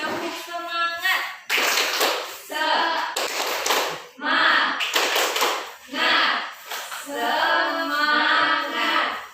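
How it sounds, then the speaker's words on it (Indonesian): Students in a classroom doing a rhythmic morning pep clap, with sharp bursts of patterned hand claps in groups alternating with loud chanted voices across the whole stretch. "mari kita awali dengan tepuk semangat."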